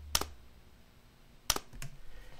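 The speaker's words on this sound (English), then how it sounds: "Next, from the Minolta X700, I used its shutter sound" Two sharp mechanical shutter clicks from a Minolta X700 film camera, close and dry, separated by over a second, the second followed by a softer mechanical clack.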